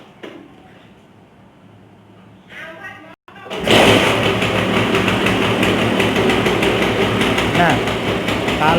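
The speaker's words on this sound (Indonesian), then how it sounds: "yang biasanya saya lakukan adalah menghidupkan suara mesin. Nah, coba kita hidupkan" A Vespa scooter engine is started after a brief quiet stretch with a few clicks, then catches and settles into a loud, steady, buzzing idle close by.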